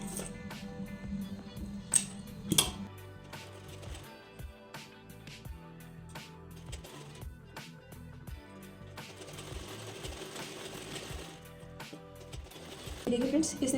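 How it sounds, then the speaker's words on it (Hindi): A sewing machine runs a basting stitch on a blouse belt, with rapid mechanical clatter in short bursts, fabric handling clicks between them, and someone talking over it. "यहाँ पर कच्ची सिलाई लगा लेनी है"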